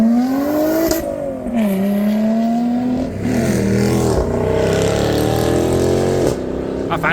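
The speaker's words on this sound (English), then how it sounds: "Here comes a TVR Cerbera." A TVR Cerbera sports car drives past leaving a car show, its engine rising and falling loudly through gear changes as it accelerates nearby, with brief talk in the background.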